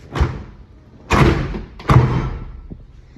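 A drawer is shut three times in quick succession, each one a close, solid thump with a short tail.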